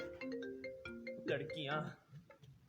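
A phone ringtone plays in a Hindi sitcom. It is a short, bright melodic tune, heard faintly at low volume in an indoor scene.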